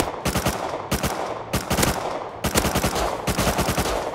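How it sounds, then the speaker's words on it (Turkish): Automatic gunfire aimed at a vehicle driver in the survival game Rust, four loud rapid bursts of close shots, each a quick string of cracks separated by short gaps. "Bayağı vurdum sürücüye."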